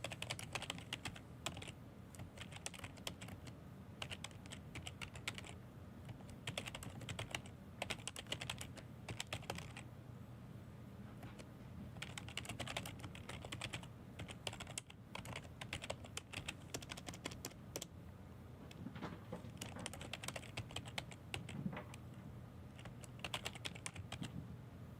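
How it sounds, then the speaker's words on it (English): Steady typing on a computer keyboard, a continuous run of quick clicky keystrokes close by, with brief pauses and bursts, under a low background hum and no talking. "So if anytime I'm not talking, it's because I'm typing and thinking."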